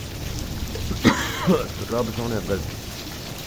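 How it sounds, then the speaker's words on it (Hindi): Heavy rain falls at night in Malakwal as a steady hiss, with someone speaking over it close to the microphone. "बारिश हो रही है जनाब"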